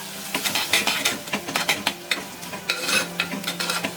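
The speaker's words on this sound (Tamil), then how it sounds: "பொடியெல்லாம் சேர்த்துட்டு பொடியோட பச்சை வாசம் போகிற அளவுக்கு நல்லா ஒரு ரெண்டு நிமிஷம் நல்லா வதக்கி விட்டுக்கலாம்" Spice powders sautéed in a pan for bitter gourd curry over a medium flame, with quick, busy scraping and stirring strokes over a light sizzle, close and fairly loud.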